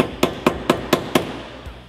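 Five evenly spaced sharp taps of a hammer on a small piece of wood, close and distinct, used to nudge a 1967 Chevelle trunk hinge into place, then a faint sixth knock.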